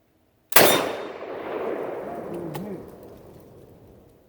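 Short model Lee Enfield rifle fired at a depleted fire extinguisher cylinder downrange with old Pakistani ammunition: a single sharp shot after brief silence, ringing metallic clang and long decaying reverberation, with a faint bird coo afterward.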